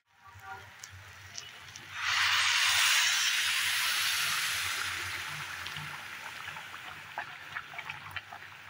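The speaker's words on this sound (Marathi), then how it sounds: "आता याच्यात आपण गरम पाणी घालून देऊया" Boiling hot water poured into rice for a fresh pavta bean biryani, a rushing splash that swells, holds for a few seconds and fades into a bubbling simmer.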